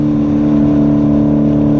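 A BMW M850 xDrive with an 8-speed automatic in Sport Plus manual mode accelerates hard, its engine droning loud and close with a steady, dense roar.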